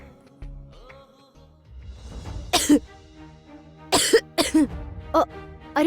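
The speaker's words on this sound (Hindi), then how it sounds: "आपको खांसी हो गई है क्या?" A woman coughs in several sharp, loud bursts that come in quick pairs and clusters, over a low, steady background hum.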